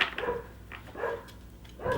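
Neighbor's dogs bark in several short bursts, somewhat distant and moderately loud, with brief quiet gaps between the barks.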